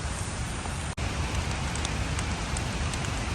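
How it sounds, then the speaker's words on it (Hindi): Steady rain falling in a forest in the Parvati Valley near Tosh, a close, even hiss of drops on leaves with a brief dropout, no voices. "बारिश हो रही है, बिल्कुल फॉरेस्ट के बीचों बीच है हम।"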